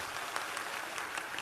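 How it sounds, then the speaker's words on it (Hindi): An audience at a religious discourse claps steadily to thank a questioner, a faint, even wash of many hands with no voices on top. "पहले नंबर तो इन्हें ताली बजा के धन्यवाद दो।"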